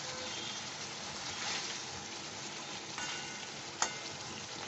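Chicken reshmi curry masala frying in a pan, a steady close sizzle that holds evenly throughout with a couple of brief stirring clinks near the end, no voices.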